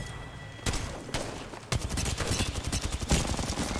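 Rapid gunfire from the Mastiff shotgun and other weapons in an Apex Legends tournament match, dense overlapping bursts that start after a short quiet stretch and keep up loudly to the end.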